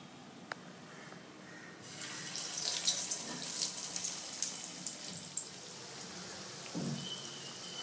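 Moong dal kebabs frying in hot oil in a frying pan over a medium flame give a steady crackling sizzle that swells after about two seconds and continues with small pops, with no talking.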